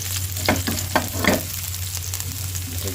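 Chili sautés with onion, garlic, ginger and turmeric in a pan, giving a close, steady sizzle broken by a few sharp scraping stirs early on.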